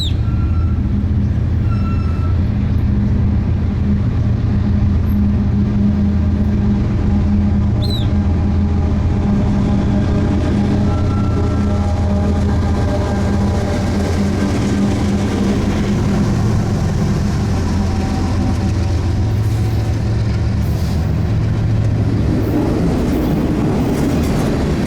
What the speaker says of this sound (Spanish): Un tren local Monterrey-Torreón llega con una AC4400 al frente y una ES44 de la nueva adquisición